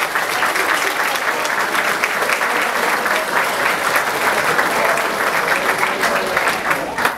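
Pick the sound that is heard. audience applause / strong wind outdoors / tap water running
audience applause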